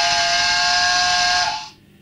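A model train's steam whistle sound function blows one loud, steady, sustained whistle for about a second and a half, then cuts off into quiet.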